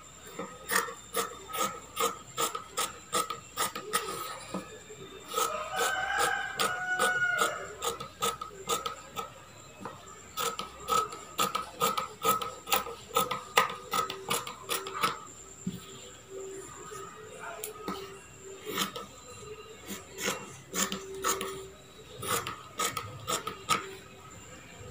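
Scissors cutting blouse fabric, a long series of close, crisp rasping snips in quick regular bursts with brief pauses, heard alone without talk.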